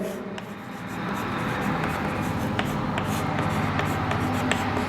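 Chalk or marker scratching steadily across a classroom board while equations are written, a continuous close rubbing texture with faint taps marking strokes.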